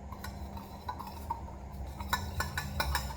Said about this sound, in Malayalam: എടുത്തിട്ട് നമുക്ക് സ്പൂൺ നമുക്ക് മിക്സ് ആക്കണം.